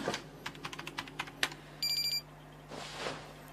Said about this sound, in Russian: Не, звонит.